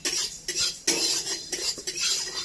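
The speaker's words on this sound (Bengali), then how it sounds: "ধনে আর জিরেটা দেখো চটপট আওয়াজ করছে, তার মানে এটা হয়ে গেছে।" Coriander and cumin seeds dry-roasting in a pan give off a dense, steady crackle with scattered sharp pops and a few scraping stirs, close and fairly loud, with no voices.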